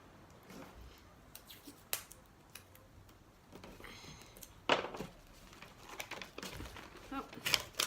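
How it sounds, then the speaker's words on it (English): Washi tape is pulled off the roll and pressed down around a craft surface for texture paste work: quiet, scattered crackles and short tearing bursts, the sharpest near the middle and end, with faint voice murmur behind. "tape off a little bit in the middle."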